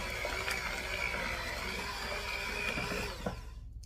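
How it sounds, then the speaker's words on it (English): Hand mixer whisking softened cream cheese in a bowl, a steady close whirring buzz that holds for a few seconds before cutting off. "with my hand mixer."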